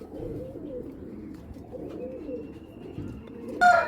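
Giribaz pigeons, a Bangladeshi coloured breed, cooing in low, soft, rolling murmurs throughout, with a brief sharper sound near the end.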